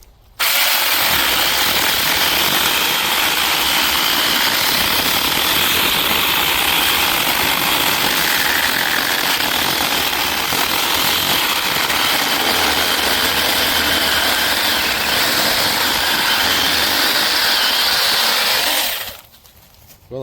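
A DEKOPRO cordless electric mini chainsaw with a 15.2 cm bar cuts through a 4-inch dead tree, producing a loud, continuous buzzing drone that sometimes bogs down slightly, lasting nearly twenty seconds before it cuts off abruptly.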